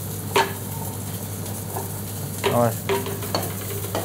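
Olive oil heating in a saucepan with chanterelle mushrooms, giving a steady close sizzle and frying hiss, with a few stirring scrapes and clinks and one brief spoken word.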